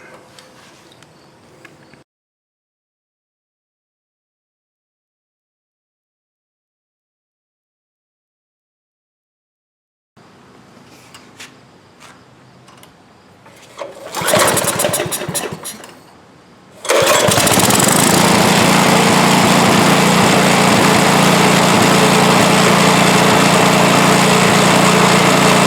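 An old small engine, long unused, starting on fresh fuel: quiet handling noises and a brief cranking surge, then it catches and settles into a loud, steady high-pitched running drone.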